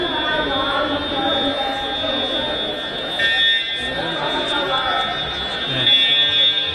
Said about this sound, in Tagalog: We are investigating the cause of alarm.